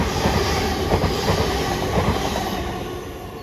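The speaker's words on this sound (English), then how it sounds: "345044 pulls in, heading for Heathrow Terminal 4." Class 345 unit 345044, bound for Heathrow Terminal 4, pulls into a London station with a close, loud, steady rolling roar and faint wheel clatter that eases slightly as it slows.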